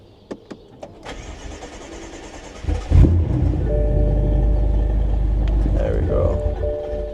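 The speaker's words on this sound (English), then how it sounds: "So the car finally turned on." A BMW F10 M5 that had broken down and shown a malfunction warning cranks over after a few clicks, catches with a loud burst and settles into a steady, close idle.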